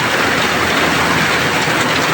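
Heavy rain pounding down on a street with water overflowing a drain, a dense, loud, unbroken roar with no voices.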